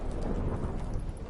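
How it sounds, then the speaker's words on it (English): Thunder rumbles beneath steady, dense rain in a storm from the video game The Witcher 3, a continuous, full wash of sound with no pauses. "Didn't bargain for no storm."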